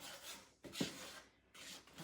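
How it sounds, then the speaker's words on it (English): A whisk stirs flour and half a teaspoon of table salt together in a bowl for cookie dough, making soft, close scraping swishes in quick strokes with a brief pause midway. "And then a half a teaspoon of table salt. Whisk those together."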